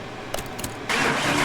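A classic car engine rated around 447 horsepower being started in a garage: a couple of faint keys jangling and clicks, then the engine catches abruptly and settles into a loud, steady rumble.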